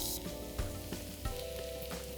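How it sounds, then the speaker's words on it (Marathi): Finely chopped garlic sizzling in hot oil for a spicy tadka, a steady close crackle with a few brief stirring knocks, no voices. "तेल गरम झालेलं आहे त्यात घालूया एक मोठा चमचा बारीक कापलेली लसूण"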